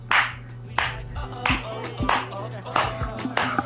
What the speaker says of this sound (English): What are you clapping?